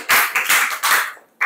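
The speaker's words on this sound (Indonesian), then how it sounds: "Tepuk tangan untuk diri masing-masing." A small group claps together in a classroom setting, a few quick bursts of hand claps in an uneven rhythm, close and fairly loud.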